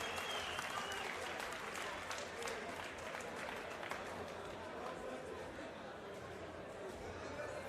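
Sustained applause and clapping from a large crowd at a boxing match fill the space, steady and dense, with some chatter and shouts mixed in.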